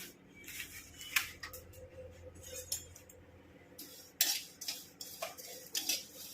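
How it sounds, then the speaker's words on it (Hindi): Cumin seeds going into a pan to dry-roast for homemade sambar powder: quiet, scattered metallic clinks and scrapes of a spoon against the pan, in short irregular bursts. "अब डल रहा है जीरा।"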